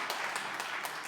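Audience applause at a comedy show at Universal Preservation Hall: a steady wash of clapping from a crowd, moderately distant and continuous through the moment with no clear talk over it.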